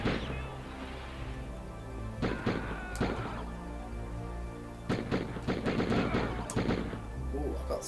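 Gunfire in the retro video game Die Harder crackles in a run of sharp, repeated shots, some in quick bursts, over a constant game background.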